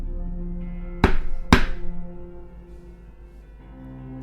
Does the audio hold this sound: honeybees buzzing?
no